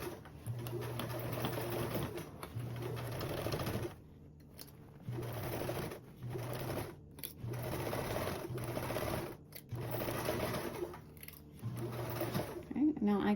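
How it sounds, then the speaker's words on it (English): A sewing machine stitches a duffle bag seam at a 1/8 inch allowance, running in short bursts of rapid mechanical whirring separated by brief pauses, close up, with someone speaking between and over the runs. "I'm going to start off lower than my 90-degree zipper end and sew with a 1/8 seam allowance"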